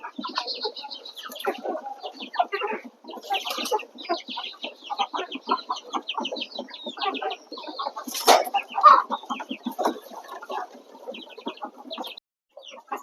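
Chickens clucking near pigeons in a village yard, a busy run of close, overlapping clucks and short calls at moderate volume, with no talk.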